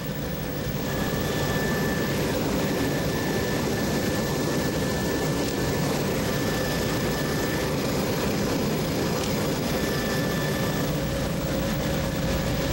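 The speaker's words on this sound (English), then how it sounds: "we're flying at about 450 feet, and we've been keeping around 70-80 knots" A small survey aircraft flies low over Prince Edward Island at about 450 feet and 70–80 knots, its engine droning steadily and loudly throughout, with no voices over it.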